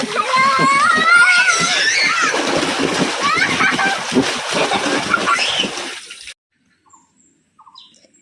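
Water splashes in a pool as people play, with loud, continuous splatter and shrieking children's voices close by for about six seconds, then near silence.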